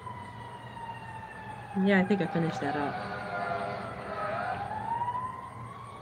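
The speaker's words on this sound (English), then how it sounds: "And here we go with the sirens." Emergency vehicle sirens wail far off in a steady rising and falling tone. A person speaks briefly over them partway through.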